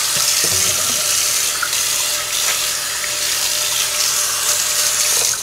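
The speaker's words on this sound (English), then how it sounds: "Wash our knife off because we got some dried prune on there that's quite sticky." A kitchen tap runs steadily as a knife sticky with dried prune is rinsed beneath it, the close continuous splash of water filling the whole stretch.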